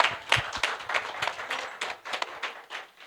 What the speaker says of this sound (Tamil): மிகுந்த கரகோஷம் ப்ளீஸ்.